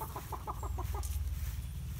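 Backyard hens in an outdoor enclosure cluck in a quick run of short bursts close by, the rhythmic clucks thinning out over a steady low rumble of background noise.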